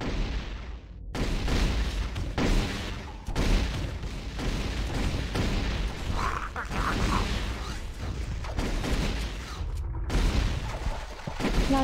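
A plasma rifle fires in a first-person shooter match set in caves, sending out dense bursts of rapid energy shots with mechanical clanks. Loud, near gunfire fills the whole stretch with only short gaps.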